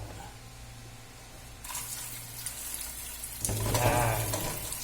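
Tap water runs into a pot in a home kitchen, a steady broadband rush that grows louder and fuller partway through as the flow or filling changes.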